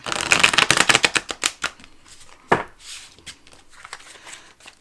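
Slippery rose gold foil tarot deck being shuffled: a dense burst of rapid, crisp card riffles and snaps in the first seconds, then a single sharp slap and a few softer scattered card rustles, close and alone.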